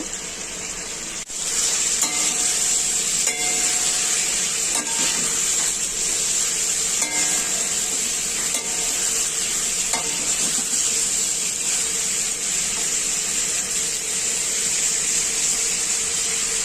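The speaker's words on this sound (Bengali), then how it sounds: "ফুলকপি আলুটা ভালো করে মশলার সাথে কষানো হয়ে যাক" Cauliflower and potato stir-fried with spices in a pan, a loud, steady sizzle and hiss with repeated scraping and clinking of a spatula, close up and without voices.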